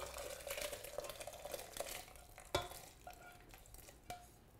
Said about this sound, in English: We're gonna put our mixture in there.